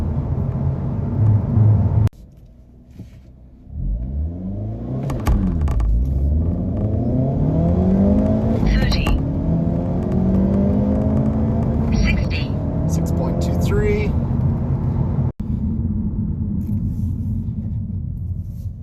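A 2025 Hyundai Elantra N with a manual gearbox accelerates hard from 0 to 60 in N mode, the engine note climbing through repeated upshifts with short dips between gears and a loud, sustained rumbling roar.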